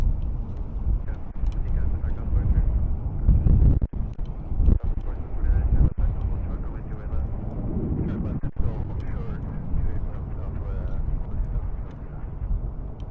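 Strong gusts buffet the microphone outdoors at an airport plane-spotting spot, a continuous loud low roar with sharp thumps and swells throughout.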